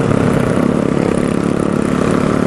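A Yamaha Scorpio bobber motorcycle engine runs at a steady, loud rumble during a night ride, its rapid, even pulsing filling the short stretch without voices.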